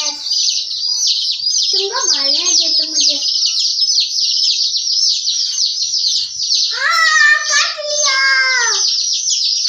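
Dense, continuous high-pitched peeping from many chicks close by, with a voice breaking in twice over the chirping.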